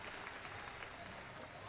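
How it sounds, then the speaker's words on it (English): A crowd applauds at a senior women's archery championship shootdown in Vegas, a steady dense wash of clapping, distant and faint, with a voice faintly underneath. "After a great round of applause from the crowd"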